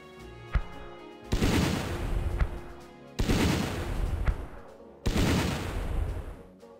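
Tank cannon fire in the Battle Academy war game: three heavy booming shots, each followed by a long rumbling roar that fades before the next, with a sharper click-like report early on.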